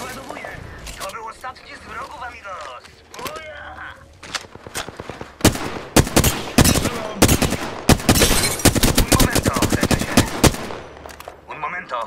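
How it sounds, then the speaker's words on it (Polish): Gunfire crackles in the video game Apex Legends as dense, loud bursts of automatic shots and single cracks, growing heavier toward the end, with a voice speaking over the early part. "Strzelają do mnie!"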